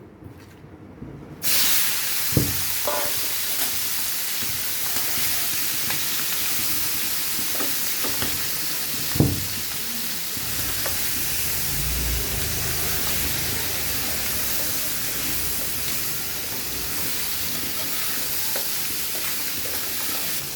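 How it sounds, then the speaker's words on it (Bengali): Fish rubbed with turmeric and salt fry in hot oil in a home kitchen, giving a steady broadband sizzle that runs nearly the whole time, with a few sharp pops and utensil clinks over it. "এখন মাছগুলো ভেজে নেবো"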